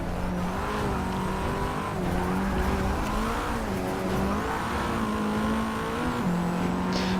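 A race car in a driving game, engine droning steadily through gears with shifting pitch as it brakes and accelerates, a faint tire squeal now and then, with no voices.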